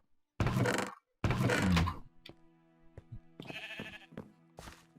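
Two loud, close sheep bleats from the video game Minecraft, followed by several light thunks and clicks of in-game block or door actions, with another short bleat toward the end.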